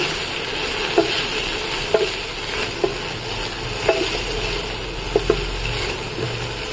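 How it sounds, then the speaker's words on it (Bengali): A spatula stirs rui fish bone chorchori with potatoes, bitter gourd, salt, turmeric and green chillies in a pan over a steady sizzle, with about six sharp scrapes and knocks against the pan at uneven intervals. "এবার ভালো করে একটু নাড়িয়ে চাড়িয়ে"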